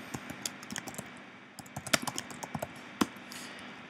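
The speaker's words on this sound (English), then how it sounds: "I'm gonna go ahead and type in my recipe name" A recipe name is typed into a Google Docs brewing worksheet on a computer keyboard: quick, irregular bursts of close keystroke clicks with short pauses between words.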